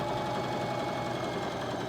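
A mechanical sewing machine runs steadily as it back tacks stitches, a continuous close, even whirring hum with a fast rhythmic needle chatter.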